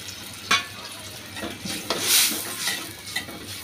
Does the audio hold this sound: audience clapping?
no